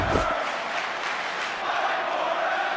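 Arena crowd in the WWE Mayhem video game roaring in a sustained wash of cheering, loud and dense, with a brief low thump at the start.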